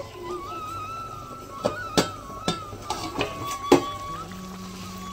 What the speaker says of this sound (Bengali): এবার আমি ঢাকনাটা তুলে তরকারিটা নামিয়ে নেব।